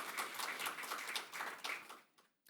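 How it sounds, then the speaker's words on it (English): An audience claps for a panelist at an energy innovation panel discussion, a fairly faint, steady patter of hands that thins out and fades to near silence at the end. "Please, a round of applause."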